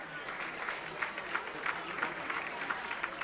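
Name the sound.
audience applause at a dinner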